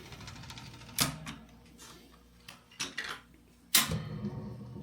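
Seeburg Model 220 jukebox mechanism scanning, giving faint mechanical clicks and rattles with a couple of sharper clacks, close and quiet with no talking.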